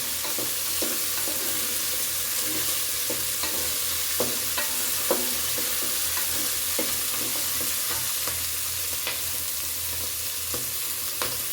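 Fresh green peas fry in a spiced oil tempering, a steady sizzle broken by regular scraping strokes of a spoon stirring the pan, close and continuous with no talking.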